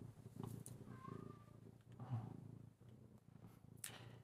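A pet cat meows and cries faintly in the background indoors, a few soft drawn-out calls at low level.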